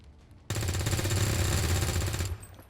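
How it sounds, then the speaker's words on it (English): Full auto gunfire in the video game XCOM 2 comes as one loud, dense burst of rapid shots lasting nearly two seconds, starting abruptly and cutting off sharply after a quiet lead-in. "I'm actually going to use full auto fire on me."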